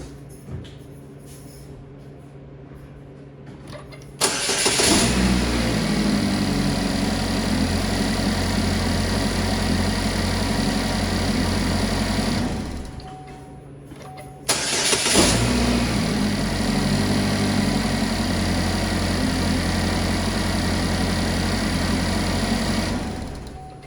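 A 2013 Chevy Equinox engine cranks and catches after a battery replacement, settling into a steady idle; after a short pause it is started a second time and idles evenly again, loud and close with no talking.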